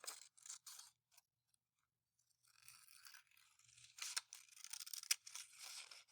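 Scissors snip out a heart shape for a wood-burning project in short, quiet crisp cuts with pauses between them, busier and louder toward the end.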